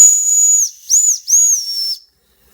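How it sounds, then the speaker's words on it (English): A loud, shrill whistle from a Jensen Model 25 toy steam engine gives three short blasts, each sliding slightly in pitch with a hissy edge, followed by silence. "Here's the whistle."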